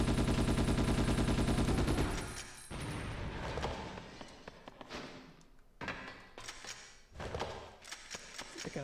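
Rapid assault rifle gunfire from the PS2 game Ghost in the Shell: Stand Alone Complex, a dense, loud automatic burst for about two seconds, followed by scattered shots, thumps and sharp bangs amid busy game sounds.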